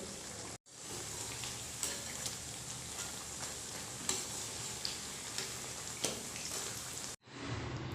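Mathri snacks deep-frying in oil over a high flame give a steady dense sizzle, with occasional stirring and flipping clinks, briefly cut off near the start and end.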